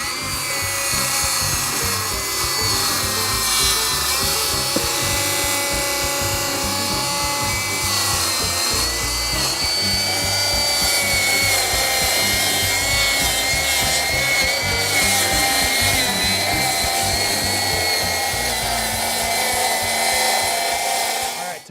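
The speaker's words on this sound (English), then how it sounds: "Time for the last cut. It's going to free up this panel." A saw cuts steadily through a roof panel during a skylight installation, a loud continuous grinding rasp with shifting pitch that runs without pause for over twenty seconds.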